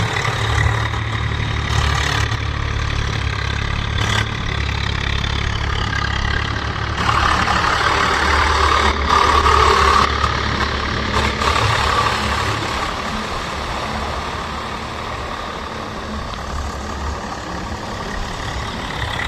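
A Swaraj 744 FE 4x4 tractor engine holds a steady, loud drone at 1600 rpm in third low gear while puddling a deep field, its tone shifting slightly under load.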